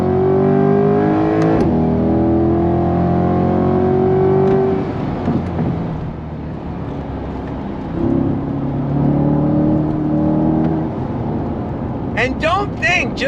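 A mid-engine C8 Corvette Stingray 70th Anniversary Edition accelerates hard through twisty roads, its engine rising and falling loudly with throttle and braking while someone talks excitedly over it.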